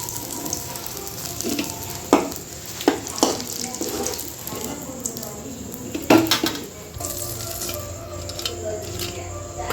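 Fenugreek and mustard seeds tempering in hot oil alongside dried fish for a dried-fish curry: continuous sizzling with occasional clanks of a utensil against the pan and a few louder knocks.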